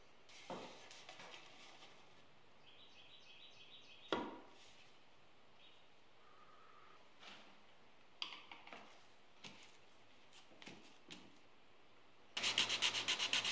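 Sandpaper rubs over a turned piece of reclaimed wood in quiet, intermittent strokes with small scrapes and knocks between them. A denser burst of rapid sanding closes the passage.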